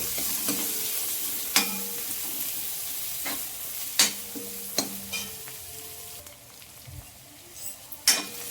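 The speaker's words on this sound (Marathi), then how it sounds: "कांदा टाकून झाला, एकदा मिक्स करते." Chopped onions fry in a pan and are stirred, producing a soft sizzle broken by several distinct spatula knocks and scrapes against the metal.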